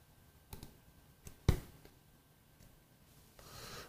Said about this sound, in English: I'm going to option click